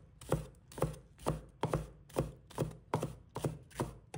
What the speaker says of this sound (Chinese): 葱白切小粒